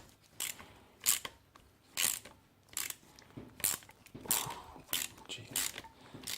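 A ratchet wrench works a long-seated spark plug loose on a Kawasaki Sherpa motorcycle, giving a series of close, sharp clicking ratchet strokes in an uneven rhythm with brief creaks between pulls.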